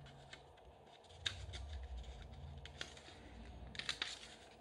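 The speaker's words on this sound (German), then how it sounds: "Und auch hier runde ich mir nochmal überall die Ecken ab." Thin paper card has its corners rounded with a small punch or scissors, giving a few quiet, crisp snips and clicks among soft paper rustling at close range.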